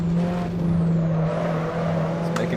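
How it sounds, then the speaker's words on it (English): A turbocharged four-cylinder mid-engine car in the racing game Assetto Corsa drones steadily at fairly constant revs with a whirring turbo note, loud and continuous throughout. "It's making quite a bit of turbo noise, which I like to hear."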